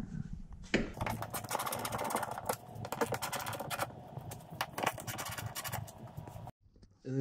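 Tool work pulling T30 bolts from the collision-damaged front end of a totaled Porsche Cayenne S: a dense, steady run of close, rapid clicking and rattling that stops abruptly near the end.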